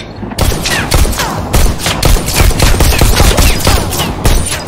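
Loud, dense gunfire rattles almost without pause as guns shoot at targets in the VR shooter Bullet Train, the Robo Recall prequel, with rapid overlapping shots close by.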